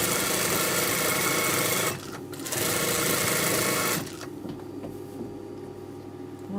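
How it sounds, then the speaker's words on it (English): Sewing machine, a smaller model, runs a slight zigzag stitch along the inside leg seam of a salwar, a loud steady whir that stops briefly, resumes, then drops to a quieter hum. "So the other way to do this is on a zigzag stitch, a slight zigzag on the smaller machine"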